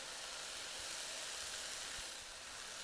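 Ground beef sizzles in a skillet, cooking for Cajun-seasoned dirty rice, a steady bright hiss and crackle with faint spatter pops, close and continuous with no talking.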